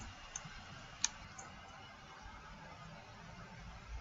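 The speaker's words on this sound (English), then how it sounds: "need to click here to upload the documents" A computer mouse gives a few faint isolated clicks, one sharper and louder than the others, against a quiet steady background hiss.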